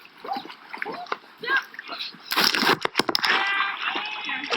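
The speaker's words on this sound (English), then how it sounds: "There's nothing like the sound of kids jumping into the water." Children jump into lake water with loud splashes and sprays, surrounded by excited kids' shouts and adult voices cheering close by.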